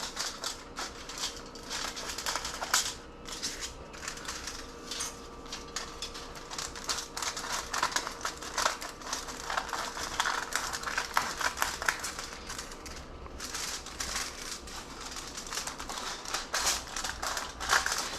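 Scissors snip repeatedly through wrapping paper in a dense, steady run of crisp cuts and paper rustle, heard close and continuous with no speech.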